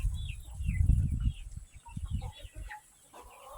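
Chickens cluck and murmur close by in a loose, busy cluster, with a few higher bird calls scattered over the low farmyard noise.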